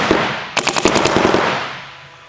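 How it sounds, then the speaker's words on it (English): A Dye M2 paintball marker fires a rapid burst of about a dozen quick, evenly spaced pops, loud and close, then the sound trails off into room noise. "we'll go ahead and run this and check the decibels of the Dye M2"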